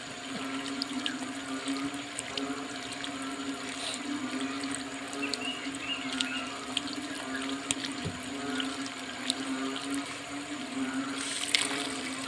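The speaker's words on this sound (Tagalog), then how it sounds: "Nalabas na po ang tubig." Water gushing steadily from a newly built outdoor water source, a continuous moderate rush with faint splashing throughout and no talking.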